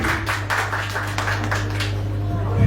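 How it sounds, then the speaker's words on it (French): An audience at an evening Russia Day event applauds with a steady patter of many hands, loud and continuous over a low hum, while a voice talks through it. "Que je vous demande d'applaudir très très fort, mesdames et messieurs"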